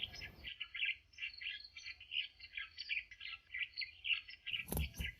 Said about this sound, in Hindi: सभी पंछी अनाज की तलाश में अपने घरों से निकल पड़े